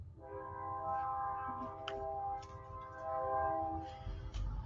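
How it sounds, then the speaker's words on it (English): A passing train sounds its horn in long sustained blasts, the chord holding, breaking briefly and returning, over a low rumbling of rail noise at moderate distance. "Y'all hear that train?"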